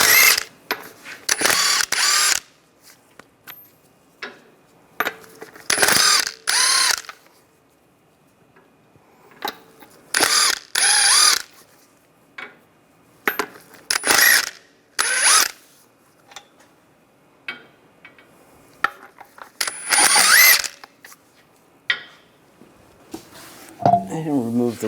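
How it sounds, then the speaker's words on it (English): A ratchet with a 22mm socket removing lug nuts from a Cadillac SRX wheel, bursts of rapid clicking and whirring in separate runs with quiet gaps between, close by. "use a 22mm socket, take the lug nuts off"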